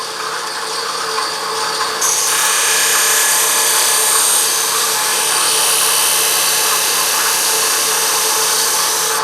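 A woodturning tool cuts through wax on a spinning wooden Christmas ornament on a lathe, making a loud, continuous harsh grinding whir that intensifies after a couple of seconds and holds steady.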